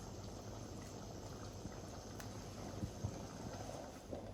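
Salted water boils with tagliatelle pasta cooking in it, a steady low bubbling hiss throughout with a few soft pops rising from the pot.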